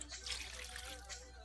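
A cup of water poured into a pot of beef stock for birria consommé, a brief steady splashing trickle heard alone at close range.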